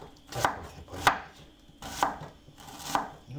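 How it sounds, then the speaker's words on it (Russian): A knife chops an onion on a cutting board in four distinct, evenly spaced thuds, crisp and close, with no talking. "нарезки лука."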